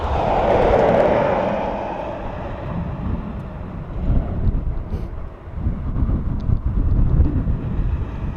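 A rising and falling aircraft roar as a plane approaches Dublin Airport, heard outdoors with gusty wind buffeting the microphone, swelling again toward the end.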